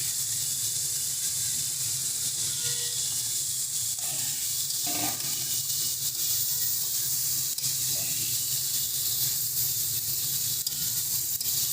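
Pre-fried potatoes go into a pan of cooking liquid, giving a steady, even sizzling hiss close by with faint clinks and no voices.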